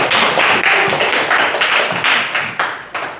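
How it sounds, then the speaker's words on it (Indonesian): Schoolchildren in an Indonesian classroom clap together for a classmate, a steady burst of close, bright claps sustained for a few seconds with no talking. "tepuk tangan dulu buat Galang"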